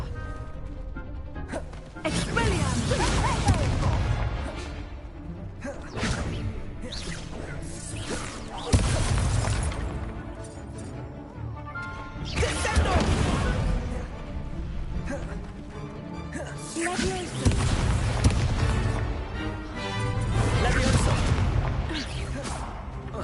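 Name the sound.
Confringo fire spell explosions in video game Hogwarts Legacy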